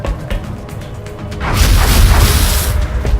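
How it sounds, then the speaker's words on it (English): A weapon fired at an alien ethereal in the X-Com video game: a heavy booming blast that swells and rumbles loudly for over a second after a quieter lead-in. "I'm just going to shoot at this, which is the alien ethereal."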